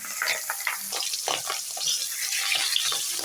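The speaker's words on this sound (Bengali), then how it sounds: "এবার দিয়ে দেব কিছুটা সর্ষের তেল মাছ ভাজার জন্য" Tangra fish frying in mustard oil in a hot kadai: a close, continuous crackling sizzle with popping spatters and some stirring or scraping, without any voices.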